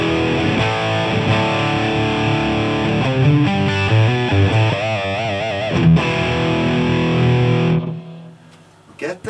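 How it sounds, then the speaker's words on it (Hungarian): Electric guitar through the distorted channel of an amp head with faint delay, light reverb and a noise gate, switched by a G-Lab GSC2: loud, saturated chords and riffs ringing continuously before cutting off sharply near the end. "ez a torzított csatorna ennek a fejnek."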